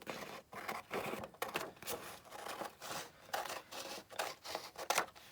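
Scissors snipping through a paper journal page, cutting it down the middle in a quiet craft setting, with a steady series of close, crisp cuts and rustling paper, no voices.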